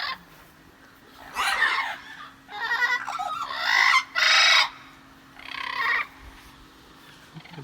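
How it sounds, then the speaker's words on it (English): Fowl at a junkyard give several loud bursts of clucking and squawking calls, spaced with short pauses, over a faint steady hum. "Look at all these birds."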